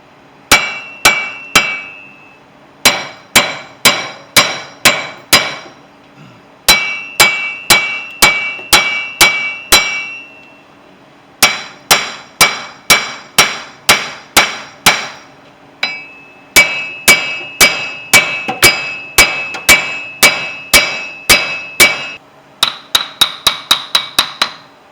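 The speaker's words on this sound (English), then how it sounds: "Just going to hit it right here on the flange" A hammer strikes the wheel hub flange of a 2004 Chevy Astro van, sharp metallic blows landing in quick bursts of four to eight with short pauses between, loud and close, ending in a faster run of lighter taps.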